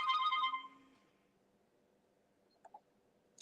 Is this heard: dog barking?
no